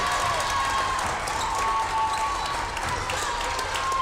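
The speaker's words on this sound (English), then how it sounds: "Her teammates cheer for her. Everybody cheers for her." Crowd at a girls' varsity high school basketball game on senior night cheers and applauds steadily after a player's basket, a dense roar of clapping and voices filling the gym, with faint bouncing and shuffling underneath.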